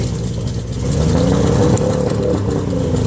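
A boat's outboard engine runs steadily at high-speed idle, a loud, even droning hum with a rough low rumble that holds constant and close throughout, with no voices.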